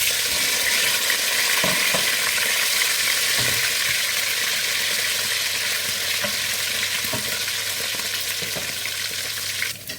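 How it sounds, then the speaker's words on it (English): A continuous, loud sizzle of chicken gizzards frying in hot oil, with occasional soft clinks from stirring. "Okay guys, we are frying the gizzard."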